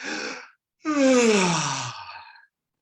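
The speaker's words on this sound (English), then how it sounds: "When you yawn, it often is going to sound like" A person gives a voiced yawn like a big sigh of relief: a short breathy exhale, a brief pause, then a long falling moan that fades into breath.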